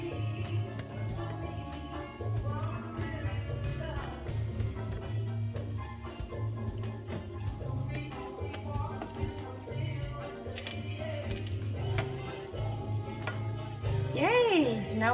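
Soft sizzling and gentle scraping as sesame-coated buchi balls are rolled around in a frying pan, steady and low, with a voice talking over the cooking and a brief higher whistle near the end.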